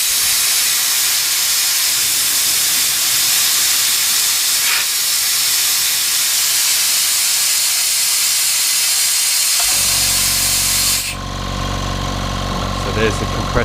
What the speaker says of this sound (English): So there's the compressor running.